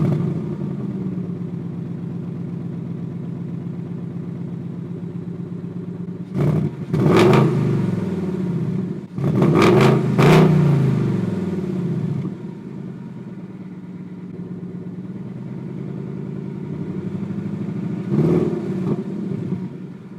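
A Ford Coyote V8 fires up and idles with a deep, steady rumble, then is revved hard in several loud bursts, two close together in the middle and one more near the end, each settling back to idle.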